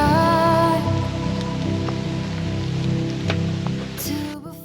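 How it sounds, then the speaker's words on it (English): Rain falls steadily on a UK smallholding, a dense hiss of drops hitting surfaces with a few louder taps, mixed with a sustained tonal hum, and no talking. "Rain stopped play"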